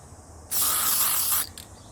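A single close, loud hiss of a directional sprayer misting cleaner onto cured resin lasts about a second, followed by a faint short puff.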